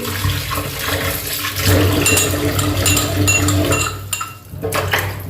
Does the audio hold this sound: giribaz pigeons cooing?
no